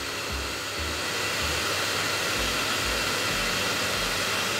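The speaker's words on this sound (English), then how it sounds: "This is one of the primary features of this hair dryer, this cold shot button." Ikonic Pro 2800 hair dryer running on its cold shot setting, a continuous loud airy whoosh with a low motor hum that pulses slightly, steady and close throughout with no talking.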